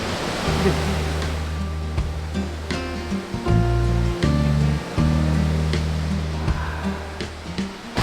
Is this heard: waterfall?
yes